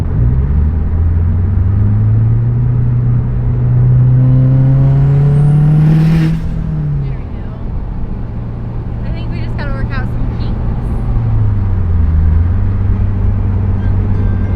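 A built Subaru STI with an equal-length header and external wastegate pulls hard, its engine tone climbing steadily to a peak and then easing off into a loud, steady cruising drone heard from inside the car.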